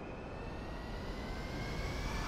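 A fixed-wing plane's jet engine in Grand Theft Auto V gives a steady, moderately loud roar with a faint high whine, holding constant throughout without voices.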